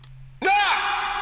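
One loud, sudden shouted vocal sample from an electronic music track bursts in after a soft low hum and rings out with a bright, wide, echoing tail.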